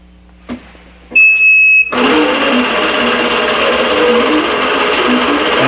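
A computerized quilting machine gives a few beeps, then starts sewing a quilt block with a loud, steady, rapid mechanical stitching drone that carries on without a break.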